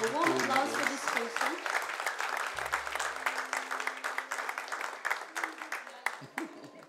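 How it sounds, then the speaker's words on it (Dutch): A church congregation gives warm applause, a dense wash of clapping that stays steady before tapering slightly, with a voice and faint tones mixed in at the start. "Ik wil de hele kerk vragen om een warme applaus te geven"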